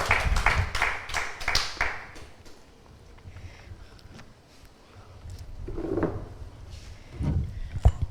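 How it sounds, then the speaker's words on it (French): An audience at an arts event gives a burst of close clapping for about two seconds, which then fades into scattered room noise and a few faint thumps. "Je vous demande d'applaudir, messieurs et mesdames."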